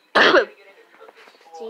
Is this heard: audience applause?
no